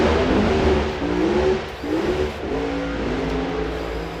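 An AA/fuel dragster at an NHRA nostalgia drag race revs hard, its engine note rising and dipping as the tires shake, then cutting back; loud, steady and close, with no voices.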